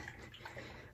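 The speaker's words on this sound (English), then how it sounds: "I'm just going to give it a few more shakes just in case" A small bottle of rose oil-infused facial serum is shaken, giving a faint, close liquid sloshing with soft rhythmic swishes over about a second.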